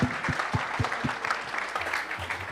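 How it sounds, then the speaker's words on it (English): Audience applause at a tech demo night in San Francisco, a steady patter of clapping from a room of people, with a few louder low thumps near the start and fairly even loudness throughout. "All right, round of applause for Theses"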